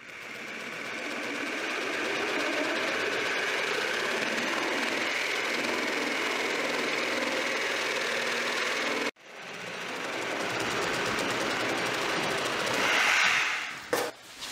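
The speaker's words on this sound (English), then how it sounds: "I'm using this Sawzall to trim those back a bit" A Sawzall reciprocating saw trims the bottom of door moldings so that flooring can slide underneath. It gives a steady, loud mechanical buzz, cuts out sharply for an instant, then starts again and runs on.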